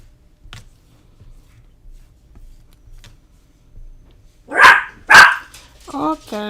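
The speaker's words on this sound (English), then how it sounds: "Oh, there's my dogs." Dogs in a household barking: a few faint distant yips early on, then two loud close barks followed by a whining yelp near the end.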